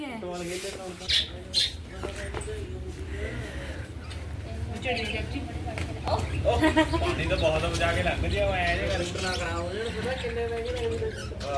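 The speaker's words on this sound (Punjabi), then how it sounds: "ਕਿੰਨੀਆਂ ਸੋਹਣੀਆਂ ਚਿੜੀਆਂ ਨੇ ਨਾ" Sparrows chirp and squawk close by, rapid warbling calls repeating throughout, while a person speaks over them.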